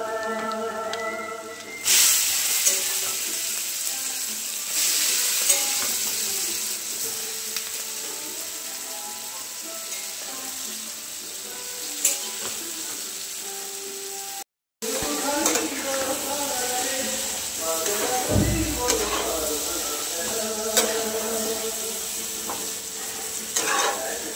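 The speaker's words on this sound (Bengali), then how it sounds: "পেঁয়াজ, রসুন, ধনে লঙ্কা ফোড়ন দিয়ে ভেজে নিচ্ছি।" Onion, garlic, coriander and chilli with nigella seed, chilli powder and turmeric frying in hot oil before taro leaves are added, a continuous close sizzle with stirring scrapes and a brief break partway through.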